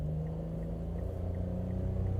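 A 2014 Mitsubishi Mirage with its 1.2 liter three-cylinder engine gives a steady, droning rumble with a low buzzy tone, heard from inside the car with no talking.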